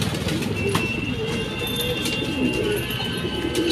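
Rampuri pigeons coo softly and steadily against a constant bed of low background noise, with faint bird calls scattered throughout and no talking.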